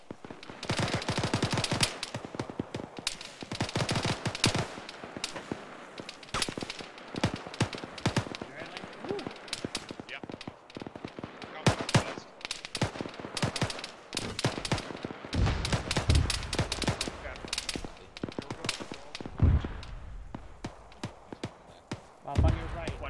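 Gunfire crackles through a field training exercise near a junkyard, with rapid bursts and single shots cracking over about twenty-three seconds. Some reports sound close and sharp, others more distant, with voices talking in between.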